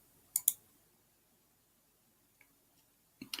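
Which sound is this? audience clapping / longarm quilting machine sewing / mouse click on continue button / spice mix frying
mouse click on continue button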